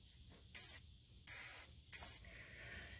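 Three short, sharp bursts of penetrating oil spray hiss from an aerosol can onto the O2 sensor threads of a 2003-2009 Toyota 4Runner, close and evenly spaced, then a faint lingering hiss.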